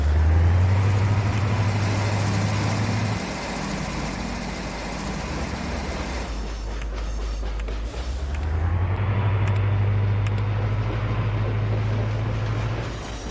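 Trains in the railway simulation game Chris Sawyer's Locomotion give a steady low engine drone that drops away for a few seconds and then returns, rumbling continuously with no talk over it.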